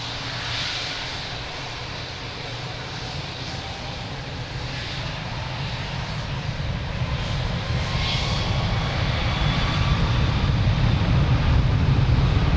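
An airliner takes off from runway 02 at Lisbon Airport, its engine roar building steadily from a distant rumble to a louder, heavier thrust over several seconds, with no talking.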